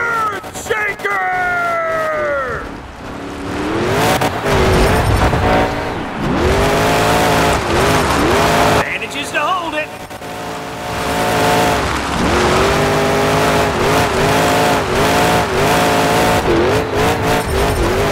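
A monster truck engine in Monster Jam Showdown roars and revs in a busy stadium mix, with harmonic whines sweeping up and down and crowd-like noise throughout.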